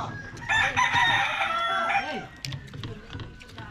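A rooster crows loudly nearby in one long, drawn-out call lasting about a second and a half, followed by softer clucks and faint background chatter.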